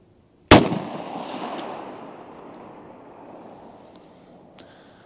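A single sharp gunshot from Federal HST .45 ACP +P ammunition, loud and close, followed by a long outdoor echo that fades over several seconds.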